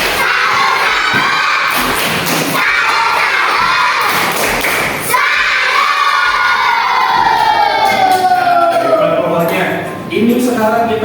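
A second-grade class claps out the 'tepuk salut' routine, with bursts of rhythmic claps and thumps mixed into loud children's chanting and shouting in a classroom. The voices rise and fall over about eleven seconds.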